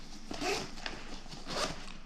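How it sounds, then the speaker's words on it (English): The zipper on the back pouch of a compact hunting pack is pulled closed in two quick rasping strokes, close and fairly quiet, with no talking. "Everything zips right up."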